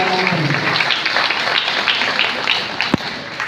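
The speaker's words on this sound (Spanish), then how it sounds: "Dale una ofrenda de palmas al Señor" Congregation at a church ministerial summit gives an offering of applause, a loud, dense wash of clapping from a large crowd that carries steadily throughout, with one sharp thump near the end.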